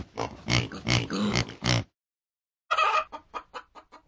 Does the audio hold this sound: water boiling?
no